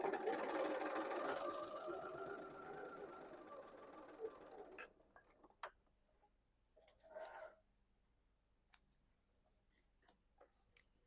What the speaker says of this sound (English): now I'm just going to sew those two pieces together using a 1/4 inch seam